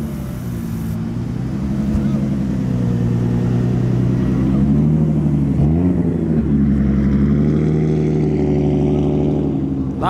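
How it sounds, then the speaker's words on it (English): A Nissan Skyline R34 pulls into a car meet with a loud, steady engine drone close by, rising in a brief rev partway through and holding a throaty rumble as it rolls in. "We have an arrival of an R34."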